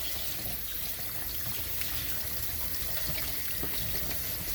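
Running tap water pours steadily over shirataki rice being rinsed in a sink, a continuous close rushing splash with no voices.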